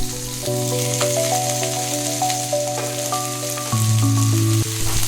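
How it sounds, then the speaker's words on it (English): Onions sauté in hot oil in a pan after mustard seeds, giving a steady, even sizzle that continues without a break beneath sustained background tones. "Now the onion go in. Saute them till golden and soft."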